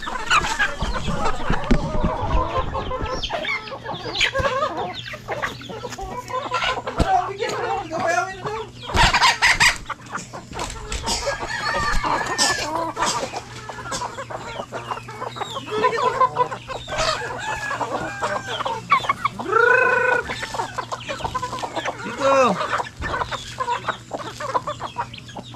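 Many chickens cluck and squawk close by in a busy chorus on a farm, with a rooster crowing and occasional voices mixed in.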